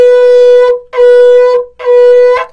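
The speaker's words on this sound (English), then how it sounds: "the shofar will sound like this" A shofar sounding three steady, loud blasts in a row, each a strong buzzy horn tone lasting well under a second, separated by short breaks, forming the broken shevarim pattern.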